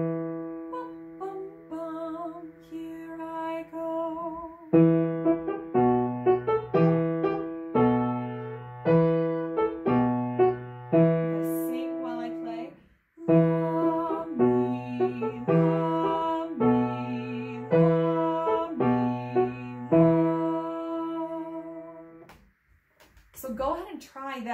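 Piano accompaniment in E alternating between tonic and dominant chords, played at a steady pace with sustained, clear chords and a brief pause midway, close and moderately loud with no voice over it.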